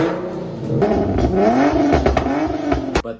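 An Infiniti G37 with an aftermarket exhaust revs loudly up close, its engine note climbing in pitch through a throaty blip before dropping off abruptly.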